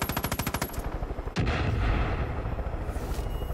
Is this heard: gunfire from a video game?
yes